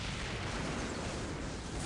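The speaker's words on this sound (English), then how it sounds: "Huge explosion from the Eldari." Huge explosion in the Dawn of War Soulstorm strategy game from an Eldar unit, a dense, rumbling blast wash that stays loud and even, with no voices over it.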